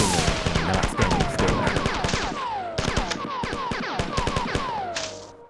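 Rapid bursts of game gunfire from the first-person shooter Marathon, dense and continuous, with sharp repeated shots over a busy, loud mix of other in-game sounds throughout.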